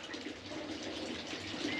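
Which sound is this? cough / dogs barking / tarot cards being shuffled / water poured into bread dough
water poured into bread dough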